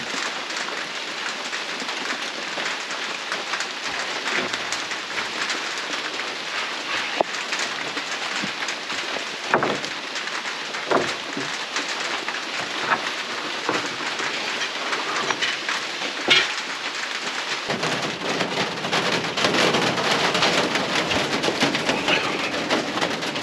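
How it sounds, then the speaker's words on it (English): Steady rain falls around a remote trapper cabin, a dense continuous hiss with scattered drips and taps that grows heavier and louder toward the end. "we got here just in time for the rain"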